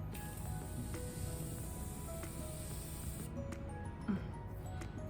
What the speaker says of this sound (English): And the last step for this makeup look is the setting spray.